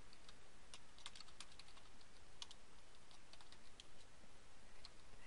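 Faint, quiet keystrokes tap irregularly on a computer keyboard against a soft hiss of background noise.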